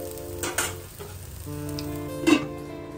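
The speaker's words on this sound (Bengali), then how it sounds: "আমাদের এখানে চলছে আলু ভাজা" Potatoes fry in a little oil with a low, steady sizzle, broken by a few louder scraping stirs and a hum beneath.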